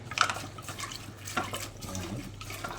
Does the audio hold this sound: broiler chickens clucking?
no